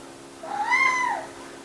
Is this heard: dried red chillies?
no